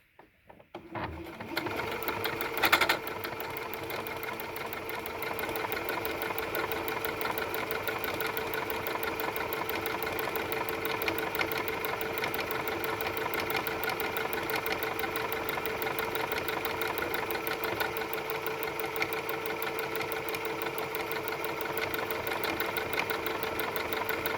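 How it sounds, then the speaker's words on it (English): A Janome DC2019 sewing machine stitches an automatic buttonhole with a steady, rapid mechanical whirring and needle clatter. After a brief start-up it runs continuously and evenly at close range for over twenty seconds, with no talking. "you just push your pedal down and hold it down, and the machine is going to do the work"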